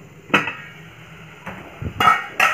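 A metal lid is set on a pot of simmering tamarind water for kulith kalan, giving a few sharp clanks and rattles, one early and a cluster of close knocks at the end.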